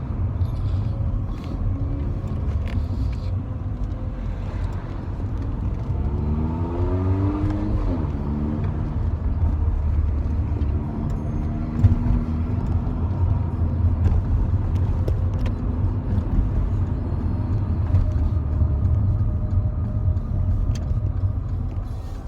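Mercedes AMG car driving on a road in the morning, a steady low engine rumble with a rising then falling acceleration sweep midway, heard from inside the cabin with no one talking.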